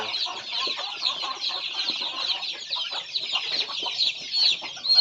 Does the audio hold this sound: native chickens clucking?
yes